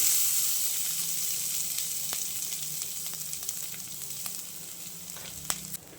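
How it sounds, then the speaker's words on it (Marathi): Grated coconut roasting in two spoons of ghee in a pan, a continuous close sizzle with occasional light clicks and scrapes, gradually easing slightly over several seconds. "इथे आपल्याला खोबरं रोस्ट करून घ्यायचं आहे तर दोन चमचे तूप घातलेलं आहे"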